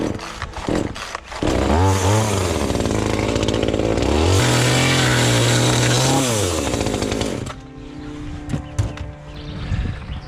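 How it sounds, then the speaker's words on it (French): A power saw cuts through a wooden counter-batten on a roofing job site. It revs up and then grinds loudly and steadily through the wood for several seconds, then winds down, with faint site noise afterward. "On coupe à la moitié du lito, du contre-lito, pardon."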